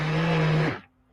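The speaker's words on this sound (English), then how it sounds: "I'm just using this immersion blender to kind of like break it up." An immersion blender whirs steadily through turmeric soap batter, then switches off and spins down within the first second, leaving a faint hum.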